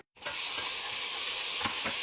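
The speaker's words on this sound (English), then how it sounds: "I love the sizzling." Tomatoes and spices sizzle in a frying pan for a Punjabi goat meat curry, a steady close bright frying hiss after a brief silent start, with a couple of soft stirring scrapes near the end.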